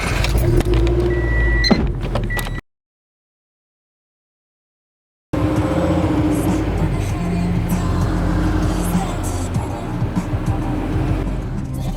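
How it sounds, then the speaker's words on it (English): A car is driven slowly around a building, its engine idling and rolling under a steady road rumble, cut by a gap of silence before the motor noise resumes, with faint voices in the background. "Just gonna bring my car around to the back so we can drop off booth stuff."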